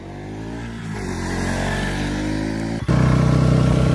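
A Bajaj Pulsar NS200 BS6 motorcycle engine with a heavy bass exhaust note, revving steadily on a curving road, loud and close, then a sharp throttle blip into a deeper, louder roar.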